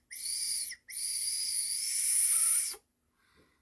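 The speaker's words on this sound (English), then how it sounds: "Lots of air coming through. Starting to whistle." Hand-whittled wooden whistle blown with plenty of air, giving two breathy, shrill sustained blasts separated by a short gap, close and loud, followed by a faint trailing toot.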